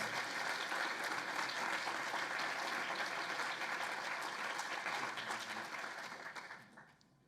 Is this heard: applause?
yes